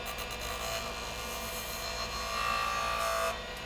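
A skew chisel cuts wood on a spinning lathe as the chisel is rolled and the handle raised, a steady close scraping, hissing cut under a constant machine hum, lasting a few seconds with no talking.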